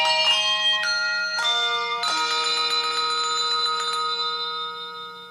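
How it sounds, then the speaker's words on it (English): Small tuned bells chime a quick festive melody of We Wish You a Merry Christmas, the jingle from a Hershey's Kisses commercial. The notes are bright and ringing, with overlapping tones that sustain and slowly decay, and no voices are heard. "it's we wish you a Merry Christmas, but it's little bells."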